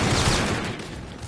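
Loud, dense burst of rapid gunfire from a robot enemy in Call of Duty: Infinite Warfare multiplayer, close and continuous, tapering slightly toward the end.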